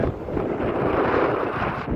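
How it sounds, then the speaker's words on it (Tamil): Steady wind roaring across open sea aboard a fishing boat, with a constant broadband rush and buffeting gusts over the noise of rising waves, loud and continuous throughout. "இதில் பொறுத்து காற்று அலை எப்படி கிளம்புது பாருங்க"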